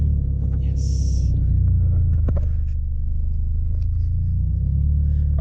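A Mitsubishi Evo engine idles while warming up, a steady, loud low rumble that holds even throughout, close by, with no talk.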